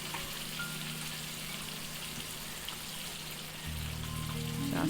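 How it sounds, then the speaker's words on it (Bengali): Paneer pieces going into a hot pan, a soft steady frying sizzle that grows slightly louder near the end as the pieces hit the oil, with no talk. "আস্তে আস্তে পনিরগুলো দিয়ে দেবো।"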